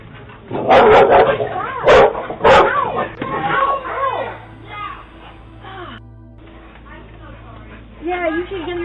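Aggressive neighbor's dogs bark loudly in a quick cluster of sharp barks close by, then yips and whimpers for several seconds, with voices mixed in.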